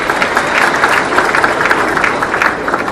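An audience at an agriculture event bursts into sustained applause, a dense and even wash of clapping from many hands that holds steady throughout, fairly loud with no clear talk over it.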